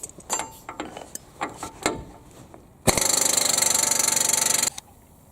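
A pneumatic impact wrench on a weak compressor breaks loose the wheel hub on a 2000 Chevy Blazer: a few sharp clanks, then a loud, steady hammering burst of about two seconds that stops abruptly, nearby with no talk.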